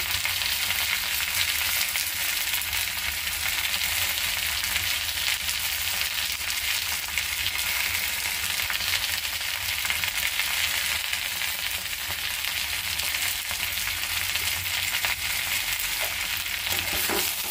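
Bhuna dal with green chilies and onion fries in a pan, giving a continuous, dense sizzle that holds steady and loud throughout, with no talk.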